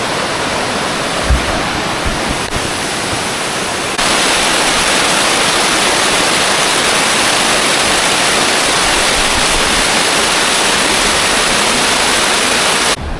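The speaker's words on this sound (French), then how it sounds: "là on arrive à une magnifique cascade" Loud, steady roar of a large mountain waterfall at over 2100 metres altitude, broadband rushing water filling the whole scene continuously with no voices.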